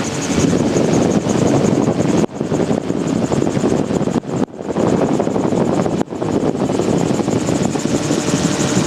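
A Magni M16 gyrocopter flying practice circuits, its rotor and engine making a loud, continuous close-up drone mixed with wind buffeting, with a few brief dropouts along the way.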